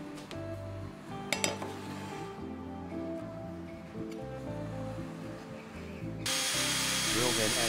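A drill bores into a plywood base while a multifunction table saw jig is built, whirring through the clip and turning louder and harsher near the end, alongside light clinks of tools.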